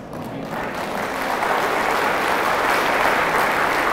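Audience at an Islamic religious lecture in Jakarta claps loudly and steadily, a dense sustained applause that swells slightly and holds for several seconds with no talking over it.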